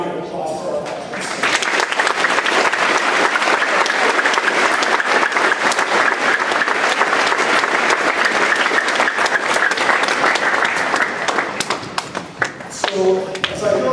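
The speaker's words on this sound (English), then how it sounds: "Could I get a round of applause for our veterans?" A large high school assembly audience applauding veterans at a Veterans Day event, a loud, sustained roar of many hands clapping that swells after a brief spoken lead-in and fades into talk near the end.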